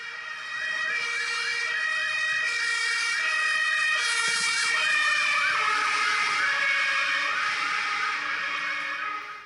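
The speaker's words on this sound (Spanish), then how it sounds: "Es obvio, es una ambulancia que se acerca y se aleja, ¿no?" Ambulance siren passing by, loud and wailing in a steady rising and falling cycle, with its pitch dropping noticeably as it approaches and then recedes, heard alone without talking.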